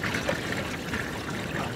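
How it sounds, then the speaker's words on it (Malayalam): Water trickles into a large pot of deer curry, about 12 kg, cooking outdoors in a village, with a soft, steady pour and no voices. "അതിൽ മാന് വേവിച്ച് കുറച്ച് വെള്ളം ഒഴിച്ചു"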